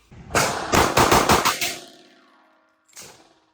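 A rapid string of about six loud, close pistol shots from a SIG P365 X Macro with a custom FDEZWERX setup, fired in quick succession and trailing off in echo, followed by one more shot after a short pause.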